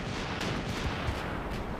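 Gunfire from a Code Geass anime battle scene, a dense continuous barrage of booming artillery-like shots and rumbling blasts at steady loudness throughout, with no speech.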